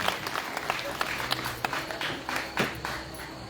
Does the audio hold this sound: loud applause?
yes